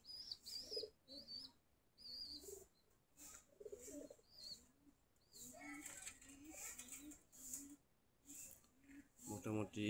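Pigeons from a flock of some thirty pairs perched outdoors on a tin roof and in trees, giving soft intermittent coos and chirps under frequent nearby talk.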